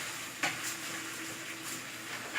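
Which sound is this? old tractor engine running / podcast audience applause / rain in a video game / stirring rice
stirring rice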